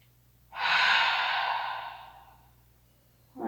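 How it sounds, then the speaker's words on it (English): A single long, breathy exhale through the mouth during a morning core yoga flow, close and fairly loud, tapering off over about two seconds before the next breath begins. "And exhale out through the mouth."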